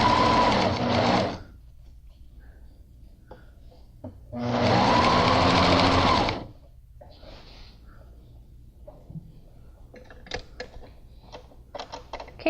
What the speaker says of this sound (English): you're sewing along that same stitch line at 1/2 inch